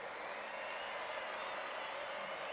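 Steady applause from a baseball crowd at a 1995 Expos game against the Braves, a broad even wash of clapping heard at a distance, with no talk over it.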